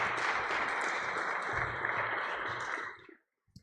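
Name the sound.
audience applause for speakers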